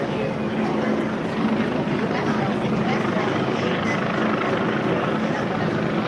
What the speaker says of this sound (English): the helicopter buzzing it.